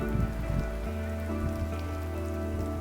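Steady rain falling in a hilly outdoor landscape, a dense even patter on surfaces with a low constant rumble beneath, loud and close, no voices.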